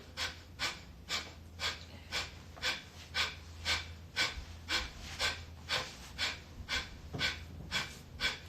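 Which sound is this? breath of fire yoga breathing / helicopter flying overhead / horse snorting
breath of fire yoga breathing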